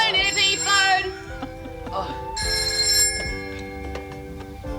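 A telephone bell rings in loud repeated bursts in an indoor scene, interrupting a toast, with brief voices under the ringing.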